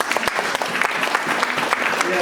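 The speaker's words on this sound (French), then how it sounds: "Vous pouvez les applaudir." A congregation at a baptism church service applauds the guitar and rhythm musicians, loud, dense clapping with sharp individual claps and some voices mixed in.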